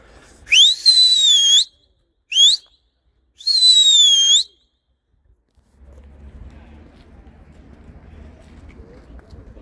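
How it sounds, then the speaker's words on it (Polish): A person whistles three times in sliding, warbling tones to call pigeons, two long phrases around a short one, then quiet outdoor rumble follows. "moje znają mój gwizd, to będą wiedziały"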